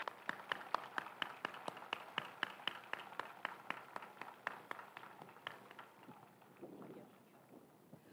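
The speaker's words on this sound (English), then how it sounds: "Let's give them a round of applause." Sparse clapping from a commencement audience at Fremont Ross High School's Class of 2023 graduation, a steady run of distinct claps heard at a distance amid faint wind noise, fading out toward the end.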